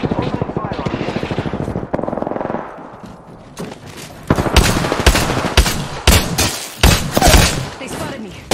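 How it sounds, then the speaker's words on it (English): Apex Legends video game gunfire, with rapid automatic bursts and heavy shots over a busy battle mix, the loudest cracks and thumps coming in the second half. "Open fire on the enemy."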